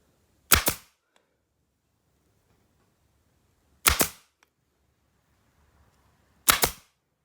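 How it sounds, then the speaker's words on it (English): A staple gun fires three sharp, loud snaps several seconds apart, driving staples into jute webbing on a vintage chair, with near silence between shots. "just a matter of getting your staple gun, whacking in a few staples"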